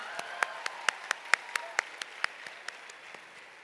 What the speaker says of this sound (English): Can we please have a huge round of applause for all the participants for today?